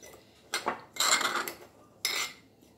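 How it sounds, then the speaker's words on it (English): Dry cocoa powder and flour being mixed in a bowl for eggless brownie batter, a few short scraping and clinking bursts of a spoon against the bowl, close and fairly quiet. "Now I'll just give it a good mix,"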